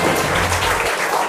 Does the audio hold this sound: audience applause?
yes